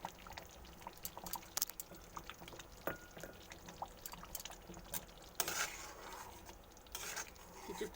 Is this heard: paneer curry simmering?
yes